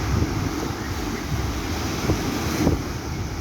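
Wind buffeting the microphone on a seaside shore, with surf washing in steadily underneath, a loud, continuous roar with no talk.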